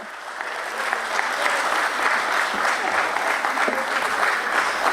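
A crowd at a company stock-exchange listing ceremony at BSE breaks into a sustained, dense round of applause, steady and fairly loud for the whole stretch with no pause.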